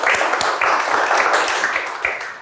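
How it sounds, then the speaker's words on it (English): Brief round of audience applause at a fireside chat event, a modest group clapping in an even patter for a couple of seconds. "Let's give a brief round of applause for Anthony"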